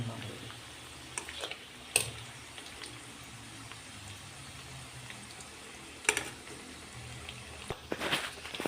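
Bitter gourd frying in hot oil on a heater gives a steady low sizzle, broken by a few sharp clanks and scrapes of stirring, near and fairly quiet throughout.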